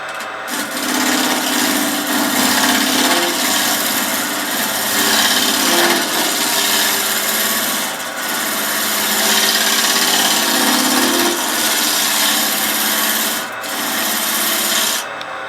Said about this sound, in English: it's about a 1/2 inch round scraper. I make these. It's a little piece of high-speed steel epoxied onto a mild steel 3/4 inch shaft.